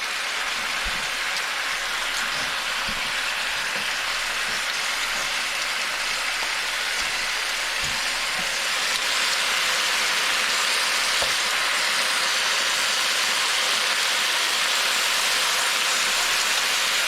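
Chicken pieces for Filipino adobo fry in a hot pan, giving a steady, loud sizzling hiss that runs unbroken throughout, with a few soft knocks and clicks of handling near the start.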